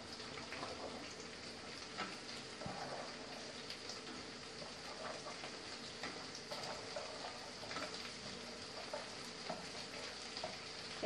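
Broad beans (avarakkai) frying with onion in a pan, a faint, even sizzle and soft stirring throughout, no voices.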